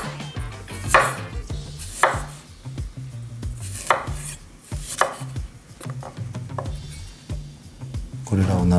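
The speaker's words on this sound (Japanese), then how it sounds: "生姜なんですが、 こいつをスライス" Ginger sliced with a knife on a cutting board for a squid and green onion stir fry, giving sharp, regular chopping thuds about once a second, close and clear over a low background hum.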